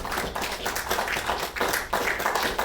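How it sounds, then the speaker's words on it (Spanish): Church congregation claps during a sermon, a few close, uneven bursts of clapping rising and falling over a couple of seconds. "Si es para Dios el aplauso."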